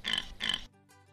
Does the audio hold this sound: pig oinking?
yes